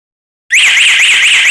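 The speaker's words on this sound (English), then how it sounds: "the sensor cable detects the water and generates an alarm" A water leak detection panel sounds its alarm after its sensor cable detects water: a loud, steady electronic siren with a warbling, wavering pitch that starts abruptly after brief silence and continues unbroken, with no talking.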